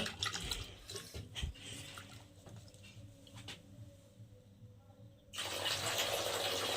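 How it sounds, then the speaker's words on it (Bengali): Cut potato pieces for French fries are washed in water, with close, soft splashing and dripping that gives way to a steady rush of tap water near the end. "এখন আমি আলুগুলো ধুয়ে নেবো, 2-3 বার ধুয়ে নেবো।"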